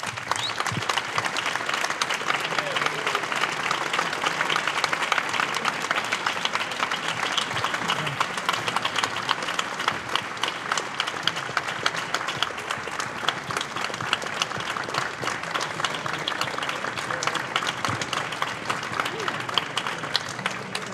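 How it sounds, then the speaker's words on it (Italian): Sustained audience applause for a wind band after a Giuseppe Verdi wind concert at Castello della Rancia, a dense, steady wash of many hands clapping that holds evenly throughout at moderate loudness. "l'applauso più grande ai musicisti del concerto di fiati Giuseppe Verdi e al"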